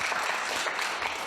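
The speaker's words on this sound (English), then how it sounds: "Please, a warm applause for Elten Kiene" An audience claps in a dense, steady wash of applause at a Martin Luther King peace and justice lecture with a spoken word contest, filling the brief moment without pause.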